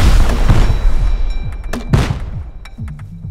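Gunfire during a raid in the video game Rust, a rapid burst of loud booming shots and thuds in the first two seconds, then fading into quieter rumbling.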